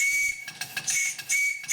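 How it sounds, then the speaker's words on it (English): A small model traction engine sounds its working steam whistle in a shrill, high-pitched toot. The tone is steady and close, broken into short pulses with a breathy hiss. "This engine has a working whistle."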